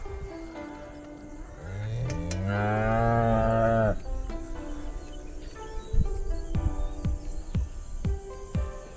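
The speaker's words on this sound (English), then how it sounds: "cows are mad. They're gonna be running up here for some food." A cow on a homestead farm gives one long, loud moo with a rising, drawn-out tone. Quieter lowing and scattered thumps follow outdoors, with faint insects and birds behind.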